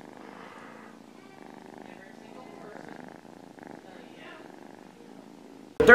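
Steady low purring rumbles continuously, soft and close, ending in a sudden loud burst of noise.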